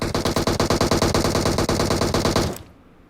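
Rapid automatic gunfire in the video game PUBG Mobile: a loud, close burst of about twenty evenly spaced shots that stops abruptly, leaving a faint tail.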